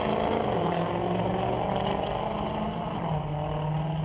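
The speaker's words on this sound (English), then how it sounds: "Diesel pickup takes off down track." A diesel pickup truck accelerates hard down a drag strip at a junior street race, its engine a loud, continuous, close roar with no break throughout.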